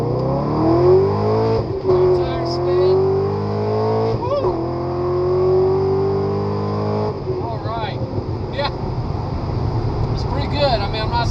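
Corvette C6 Z06 with a Vararam cold air intake and exhaust in loud mode accelerating through gears, a loud rising engine note with shifts, under a voice talking.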